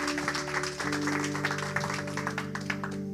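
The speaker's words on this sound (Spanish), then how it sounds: "Vamos a dar un aplauso a Jesús." Congregation applause for Jesus during a church service, a dense, steady wash of clapping over a sustained tonal hum of music or organ, with some faint voices mixed in.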